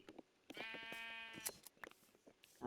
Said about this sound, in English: Oh, look at that, a pink sheep.